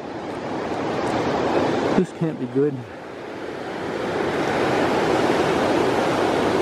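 A flooded river's rushing water roars steadily and loudly, a broad continuous wash, with a brief spoken remark near the start.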